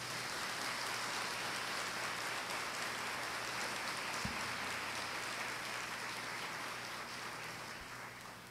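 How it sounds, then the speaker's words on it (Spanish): A church congregation applauding the archbishop at a Mass: a dense, steady wash of clapping from a large crowd that holds even and fades slightly at the end. "le pido un fuerte aplauso a todos para él"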